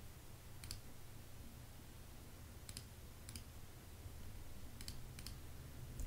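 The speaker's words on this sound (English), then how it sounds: "click those areas" Sparse computer mouse clicks during Photoshop clean-up work on a plan diagram, coming in small pairs and singles over a steady low hum, faint and close, with no talking.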